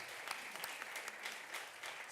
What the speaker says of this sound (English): please join me in an applause for the speakers that provide excellent presentations